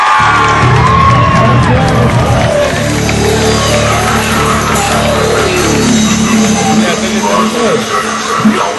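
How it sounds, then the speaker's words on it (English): A live concert audience cheers, whoops and applauds for a band from Israel, a loud sustained crowd roar with shouts rising and falling throughout. "How about a round of applause for the guys who came all the way from Israel?"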